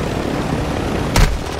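A helicopter in a video game gives a steady, loud rotor whir with broadband engine roar, briefly swelling with a sharp burst near the end.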